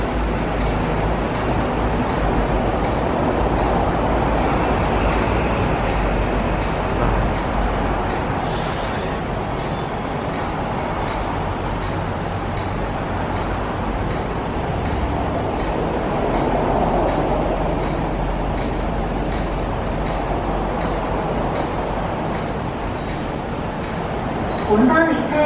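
An MTR Tuen Ma Line non-passenger train passes through Tai Shui Hang station in Hong Kong, a steady loud rumble lasting the whole stretch, with a brief high tone partway through and faint voices in the background.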